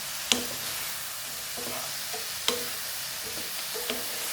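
Chili stirred into ampalaya frying in a pan, with a few scraping utensil strokes and knocks against the pan over a soft, steady sizzle nearby.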